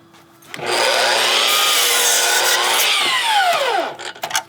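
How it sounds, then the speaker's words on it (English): A power saw rips through a 4-foot length of 2x8 lumber, a loud close whine that starts abruptly, holds steady for about three seconds, then drops in pitch and winds down after the cut. "we're just gonna cut a little 4-footer"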